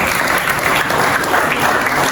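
A classroom group applauding during a lesson, dense continuous clapping from many hands, loud and close, with no pause across the whole stretch.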